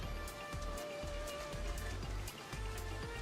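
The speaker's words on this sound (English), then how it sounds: "All I hear is the rain." Rain falls steadily in Final Fantasy XIV, a quiet, even patter with soft repeating thuds and a faint tonal hum underneath.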